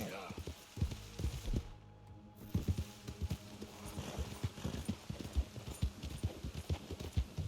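A horse gallops in a video game, rhythmic thudding hoofbeats running steadily throughout, fairly close, with a voice talking over parts of it.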